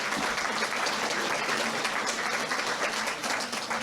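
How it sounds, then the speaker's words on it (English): An audience at a local environmental candidates' debate applauds steadily, a dense wash of clapping hands that holds at an even level throughout. "let's give our candidates a round of applause"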